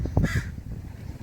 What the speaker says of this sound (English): Man, that bird is annoying.